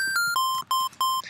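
A series of bright, buzzy square-wave synth beeps set to a high octave, a few short notes stepping down in pitch then repeating, sharp and close.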